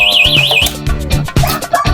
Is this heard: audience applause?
no